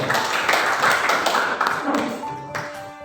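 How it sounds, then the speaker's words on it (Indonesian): Scattered claps from a school debate audience for two OSIS candidate pairs at SMA Negeri 3 Amlapura, uneven taps that thin out toward the end, with a brief tone near the close. "Berikan tepuk tangan yang meriah untuk pasangan nomor urut 1 dan pasangan nomor urut 2."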